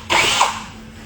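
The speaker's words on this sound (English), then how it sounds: "as soon as that drill bit catches the PVC, it's going to want to pull it straight through" A power drill bit bites into PVC pipe in a short, loud, harsh whine that fades quickly.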